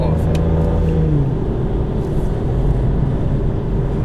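A 2005 Aston Martin DB9 driving through Boston traffic, its steady engine drone loud and close from inside the cabin, with a brief rising note early on and people talking over it.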